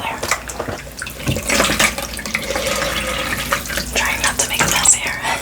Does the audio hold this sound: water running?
yes